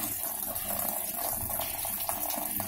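Water streams steadily into a Videocon DIGI Zaara Plus washing machine after its filter has been cleaned, a continuous close hiss and splash of flowing water at even strength, with no speech.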